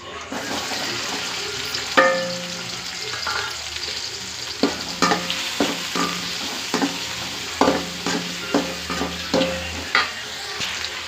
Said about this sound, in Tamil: எண்ணெய் ஊற்றியாச்சு நம்ம வெங்காயத்தை வதக்கிக்கலாம்